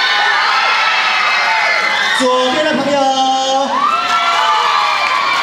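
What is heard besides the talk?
students cheering at a high school event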